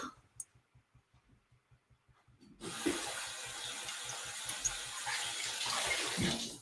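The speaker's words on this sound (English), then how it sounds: "Rinse the cloth out." A cleaning cloth is rinsed under a running tap: soft ticking at first, then a strong steady gush of water splashing into a sink, close and loud.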